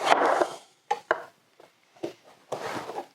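A manual chopper strikes in quick bursts, a few crunchy chops separated by short pauses, close and fairly loud.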